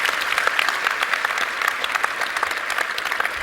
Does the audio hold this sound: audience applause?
yes